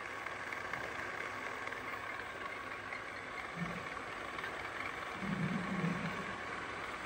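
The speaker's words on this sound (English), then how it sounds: "Increase the spindle speed. The spindle speed has been increased to 1000 RPM." A MAS VR 4 radial arm drill machine of 50 mm capacity runs its spindle at 1000 RPM with a steady, close mechanical whir and hum that swells slightly near the end.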